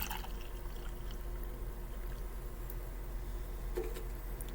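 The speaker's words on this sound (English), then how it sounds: "let's give ourselves a pour" Bizzy medium roast cold brew coffee poured into a cup, a quiet, steady liquid trickle with a faint hiss that runs evenly for several seconds, with no voices.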